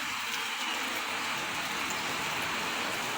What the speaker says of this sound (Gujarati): આજે ભારે વરસાદ આવ્યો છે।